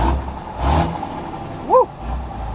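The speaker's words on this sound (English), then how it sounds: "listen to that Cummins" A Cummins diesel truck engine rumbles low and revs up in a broad swell, with a short tonal squeal near the end and no talking.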